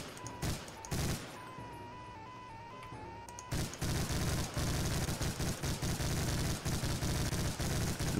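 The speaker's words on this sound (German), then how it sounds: "Und auf irgendwelche Nazi-Baracken schießen." Rapid gunfire blasts away at Nazi barracks in the video game Brutal Doom, a dense, loud run of overlapping shots that starts after a few scattered single shots and sustains to the end.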